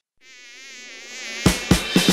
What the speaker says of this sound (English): A buzzing mosquito